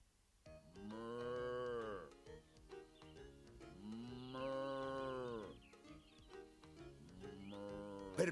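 Three long, drawn-out cow moos from a cartoon, spaced apart with quieter gaps between them, fairly faint overall.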